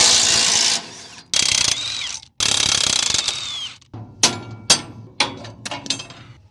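Work on removing the equalizer from an IronBull dump trailer axle brings loud, close bursts of ratcheting, followed by a series of sharp metallic clinks and clanks.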